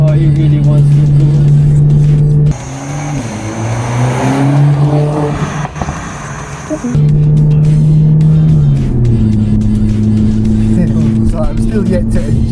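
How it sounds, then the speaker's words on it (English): A Mercedes-AMG A45 S hatchback's engine and exhaust roar and rev steadily up close, the tone rising and falling as it accelerates, with a brief lull in the middle. "you can hear the exhaust at the back."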